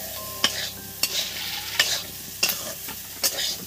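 Potatoes coated in poppy seed paste are stirred in a pan for aloo posto, giving five sharp scraping strokes roughly every 0.7 seconds over a faint steady sizzle, close and clear with no talking.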